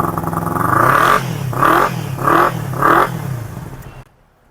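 Kawasaki superbike engine, a used machine with aftermarket exhaust, revved in four short loud blips over a steady idle, then cut off abruptly.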